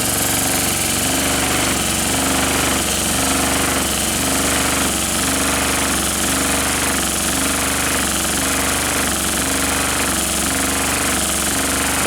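A Stuart D10 live-steam pump, double 10 model, running steadily with a dense, loud mechanical chuffing and rattling drone whose repeated beats come in a fast, even rhythm close by, with no voices.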